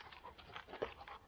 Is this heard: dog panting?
yes